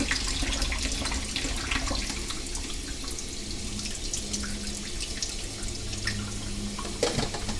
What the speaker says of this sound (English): Just hold the lever or the lid on and just drain it into some cold water there.